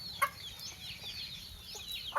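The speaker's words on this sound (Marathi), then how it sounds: "कोंबड्या ना असं इथं खाऊ खातात आणि फिरायला जातात." Farm chickens cluck in short, sharp bursts while feeding, with a couple of louder calls standing out over a quiet outdoor background; no one speaks.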